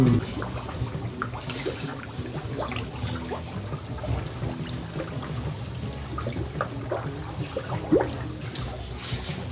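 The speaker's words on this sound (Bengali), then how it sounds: "এই যে বুদবুদের আওয়াজ পাচ্ছি এখান থেকে" Gas bubbling up through water at the Barokunda fire spring, a steady close gurgling and trickling with scattered small pops over a continuous watery wash.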